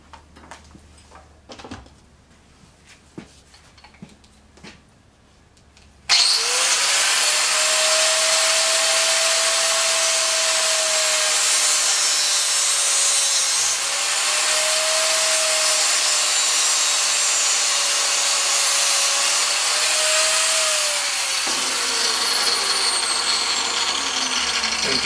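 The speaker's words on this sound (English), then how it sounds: "And then I gotta go get my cutoff wheel. Use a cutoff wheel." Cutoff wheel slicing through a fuel system part clamped in a vise, a loud continuous high-pitched grinding screech that starts abruptly and holds for about fifteen seconds after some quiet handling noises.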